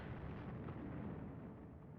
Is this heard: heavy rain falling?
no